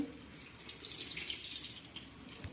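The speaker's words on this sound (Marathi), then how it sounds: "त्यासाठी आपण ही गार पाण्याने धुवून घेऊया स्वच्छ" Cold tap water runs steadily over cooked pasta in a kitchen sink, a continuous close splashing rush with small drips, with no voices.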